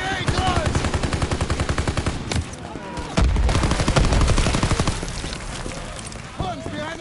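Rapid automatic gunfire from a World War II battle in Call of Duty WW2, loud and sustained in fast bursts with heavier shots and explosions mixed in, while voices shout over the combat.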